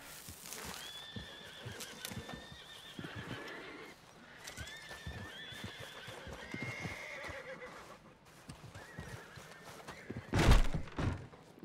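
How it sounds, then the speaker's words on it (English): Several horses in Red Dead Redemption 2 whinny and neigh in shrill, rising calls over a busy background during a homestead robbery, with a heavy thump near the end. "Boy, their horses are not happy."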